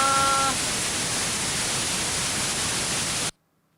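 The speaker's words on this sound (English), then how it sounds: "What the fucking white noise is that?" Loud, steady white noise static fills the clip at an even level with a faint tonal hum near the start, then cuts off abruptly into silence just before the end.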